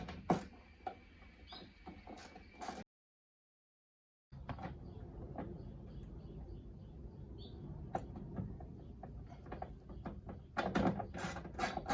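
A ratchet with a 10mm socket works on the trunk latch of an Audi A4 or S4, giving faint, quick clicking and ticking under a quiet hum with sharp taps and a short silent gap partway through.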